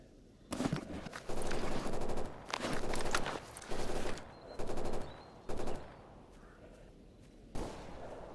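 Gunfire in the game S.T.A.L.K.E.R. Anomaly, several loud, sharp bursts of automatic fire separated by short pauses, with a final shot after a longer gap.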